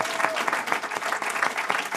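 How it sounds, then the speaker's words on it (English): A lunchtime audience at a policy panel event in Washington, D.C. claps steadily and fairly loudly, a dense, even patter of many hands filling the room. "give our panel a round of applause"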